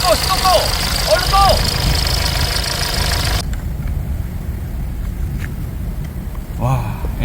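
A SsangYong Korando C diesel engine running roughly after overheating and a blown radiator, a steady mid-low engine drone with brief tonal squeals early on, loud and close, continuing alone after a sudden drop in the upper noise.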